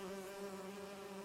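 Hornets buzzing in an animated cartoon, a faint, steady, even drone that holds for about a second without pause.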